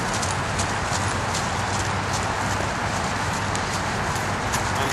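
Hooves of a Friesian gelding beat a steady, quick rhythm while the horse trots under saddle, close and loud over a constant background wash.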